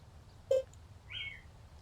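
A bird in the video game Dread Weight gives two brief chirps, a sharp tonal note followed by a higher sliding tweet, clear and close over a quiet background.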